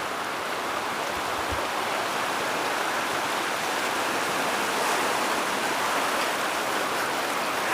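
A Himalayan mountain stream rushes over stones, a steady broadband wash of flowing water that stays close and even throughout with no voices.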